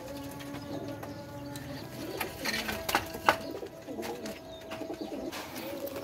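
Several pigeons from a prized pair coo softly in a loft, low repeated murmuring calls with faint chirps and rustling in the background.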